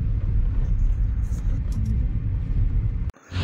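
A car drives through heavy rain near the Karli river and Bhangsal bridge in the Konkan, a loud low rumble of engine and tyres that cuts off abruptly near the end.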